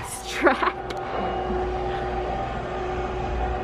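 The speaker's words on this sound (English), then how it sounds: "I feel like this train is super busy because of all the sound effects" Rumbling train sound effects play steadily at a Disney 100 exhibition train display, a continuous rolling drone with a few brief clanks near the start and faint voices in the background.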